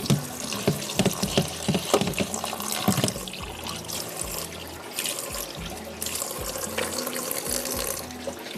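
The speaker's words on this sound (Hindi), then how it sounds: "इसके ऊपर मैंने पानी खोल दिया है ठंडा।" Cold water runs from a kitchen tap over freshly cooked pasta, a steady splashing rush with small clattering knocks, close and continuous throughout.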